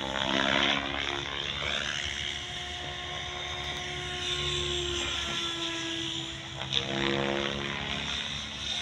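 A drone flies overhead at an open university field, its motor whine a steady buzzing drone that holds for the whole stretch and swells slightly near the end, with no talking.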